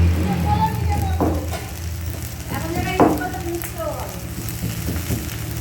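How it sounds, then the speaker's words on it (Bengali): Mixed vegetables fry in a pan with turmeric and chili as they are stirred, a steady close sizzle with scraping strokes and a faint voice in the background. "ওই যে হলুদ দিয়ে দিলাম লঙ্কা হলুদ দিয়ে বা নাড়াচাড়া করে ভাজতে বাজতে দেখো ভালো সিদ্ধ হয়ে গেছে"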